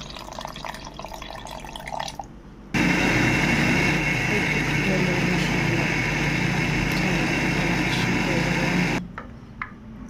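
Blender whirring steadily for about six seconds as it blends mango lassi with sugar and cold water, with quieter handling noises before and after.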